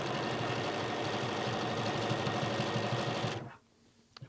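A home sewing machine stitches quilt binding into place, a steady, close, continuous mechanical whir that runs for about three and a half seconds before stopping abruptly, leaving near silence with a few faint handling clicks.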